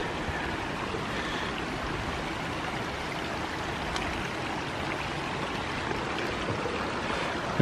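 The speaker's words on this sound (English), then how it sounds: "With all this rain, there are tons of springs coming on down from the hillside." Spring water rushing down a hillside in a nature preserve after heavy rain, a continuous broadband gush with a steady, unbroken roar and no voices.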